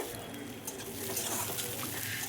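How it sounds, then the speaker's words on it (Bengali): Chopped onions fry in a pan, a soft, fairly quiet continuous sizzle with light stirring scrapes, heard close and alone without speech. "পেঁয়াজ কুচিটাকে ভেজে নেব"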